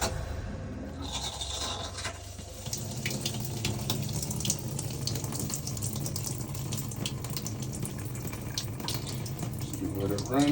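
Water runs steadily from a faucet inside a 2024 Keystone Passport 3300BK travel trailer during winterization, with the water pump on. The flow is constant and moderately close, with splashing and occasional small clatters over it.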